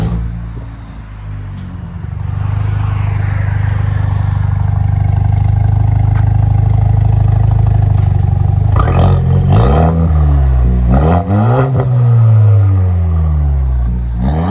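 A Chevy Silverado with a 2.7-liter turbo four-cylinder and a Black Widow Widowmaker exhaust idles with a deep, steady drone, then revs hard several times in loud rising and falling sweeps, close and alone.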